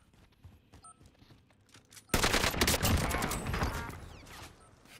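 A burst of loud, dense gunfire erupts partway through and rolls on for a few seconds during a Call of Duty match, fading slightly toward the end, after a quieter stretch of faint game sounds.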